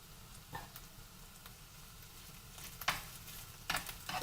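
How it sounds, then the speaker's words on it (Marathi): Hot ghee in a pan gives a faint, steady sizzle broken by a few sharp spatters and crackles, louder bursts near the end. "आलं अंगावर उडायला लागलं म्हणजे आपलं तूप छानपैकी तापलेलं आहे"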